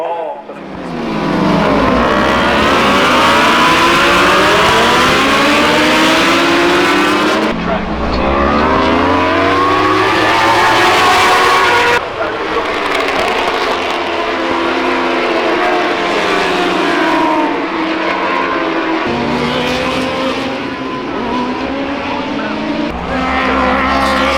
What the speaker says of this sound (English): we're going to capture the start of the race